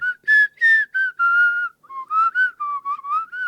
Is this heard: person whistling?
yes